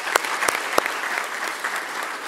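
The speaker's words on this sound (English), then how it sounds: "Let's clap for them," Audience applause at an accountancy institute's annual general meeting, greeting newly elected council members: steady dense clapping from a crowd, fairly loud and close, with a few sharper claps standing out.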